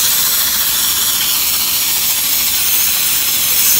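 Spray bottle misting liquid over almond-stuffed figs seasoned with cocoa, cinnamon and citrus peel, a loud continuous close hiss lasting throughout with no talk.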